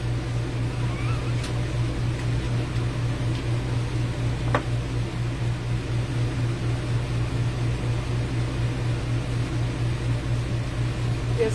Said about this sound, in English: But also, we have our air conditioner on,